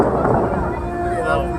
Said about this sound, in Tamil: பட்டாசு வேற